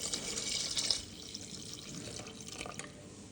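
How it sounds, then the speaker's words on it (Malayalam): Coconut milk poured into a pot of simmering Kerala chicken stew with soft-cooked potatoes, a light liquid trickle and splash heard close and alone, slightly fuller at the start then thinning out. "നമുക്ക് അതിനകത്തേക്ക് കുറച്ച് തേങ്ങാപ്പാൽ ചേർക്കാം"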